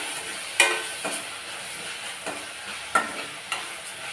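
Spices including Kashmiri chili powder sizzle steadily in a hot pan for prawn curry while a spoon scrapes and stirs at intervals, each stroke giving a brief clatter over the constant frying hiss.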